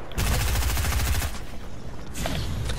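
Fortnite combat assault rifle firing a fast automatic burst of evenly spaced, loud cracks for over a second, followed by quieter scattered shots and another short burst near the end.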